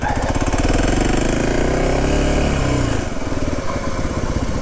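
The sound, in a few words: motorcycle engine, throttle being opened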